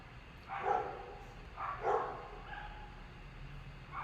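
A big Rottweiler barking from a neighbouring balcony over an alleyway, two or three muffled barks heard at a distance, moderately faint over low background hum.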